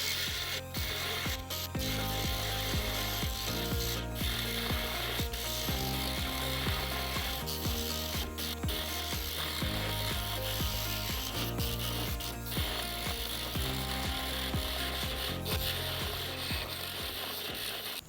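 A Dremel rotary tool cuts through a clamped piece of plastic along a drawn line, giving a loud, steady grinding whine whose pitch shifts in steps as the bit meets the material, with no talking.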